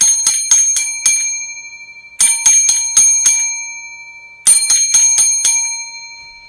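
A railway signal box bell rings the code for opening a box: three loud, sharp groups of rapid metallic strikes with pauses between them, each ring decaying quickly, with no talking.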